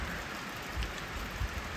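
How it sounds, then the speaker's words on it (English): Rain falls outdoors, a soft steady hiss of drops with a couple of faint louder patters, quiet and without talk. "It started raining on me."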